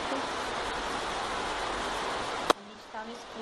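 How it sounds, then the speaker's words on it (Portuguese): Storm water cascades inside a house in Itaquaquecetuba, a steady broadband rushing that ends abruptly with a sharp click, followed by quieter room sound and a brief voice. "Olha a cascata que a gente tem em casa."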